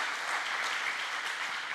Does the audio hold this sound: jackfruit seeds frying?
no